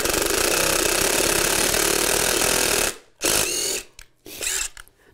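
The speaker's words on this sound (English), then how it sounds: "Let's get a second screw in just so this thing isn't sliding around on us." A power driver or impact tool sinks a screw into a concrete floor, a loud sustained ratcheting whir for about three seconds, then several short bursts as the screw seats, close and alone.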